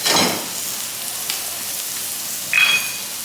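Birria tacos browning in a hot pan give off a steady hissing sizzle, loudest at the start and again near the end as more hits the oil, close by with no voices.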